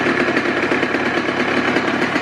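A 2019 Honda CR125 two-stroke motorcycle engine idles close and loud, a steady, buzzy, rapidly pulsing putter with no change in pitch.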